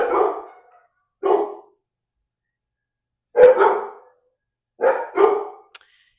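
Several neighborhood dogs bark in short bursts, two or three yaps at a time separated by pauses, fairly close and loud, with no talk over them.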